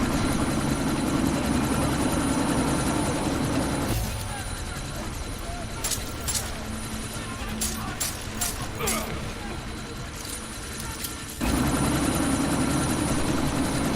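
A helicopter in the video game Deus Ex idles before takeoff with a loud, steady rotor and engine drone that dips for several seconds and then returns, while a voice speaks over it.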